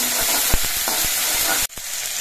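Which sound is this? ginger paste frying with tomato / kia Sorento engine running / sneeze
ginger paste frying with tomato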